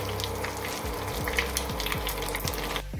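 Tadka tempering sizzles steadily in hot oil with three red chillies, ginger, garlic and green chillies, a close, continuous frying hiss with small spattering crackles and no talk.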